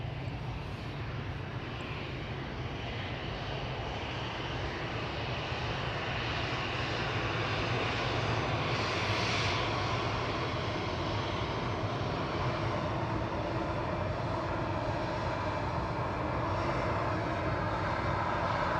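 An airliner takes off from Manchester Airport bound for Marrakesh, its engines roaring steadily and loudly for the whole stretch, a broad sustained rumble with a slight swell in the middle and no talking.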